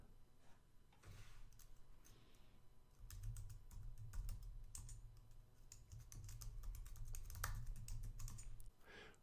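Rapid keystrokes on a computer keyboard as a password is entered, a close, dense run of clicks in irregular bursts over a low steady hum, with a brief pause near the start.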